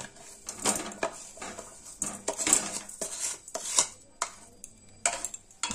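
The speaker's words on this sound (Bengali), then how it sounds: "আমলকিগুলো আর চিনির শিরাটা কড়াইতে দিয়ে দিচ্ছি।" Amla and sugar syrup are tipped from a container into a kadai, producing a run of clinking and clattering metal-on-metal knocks at uneven intervals, close and fairly quiet, with no talk.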